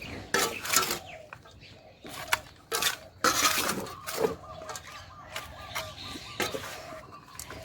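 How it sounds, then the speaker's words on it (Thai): Dry soil poured and scooped into a cut plastic bottle for planting mint, giving gritty rustling pours and hollow plastic knocks and taps in irregular bursts, close by. "หลังจากเสร็จแล้วนะคะเราก็จะเติมดินค่ะ ใส่ลงไป"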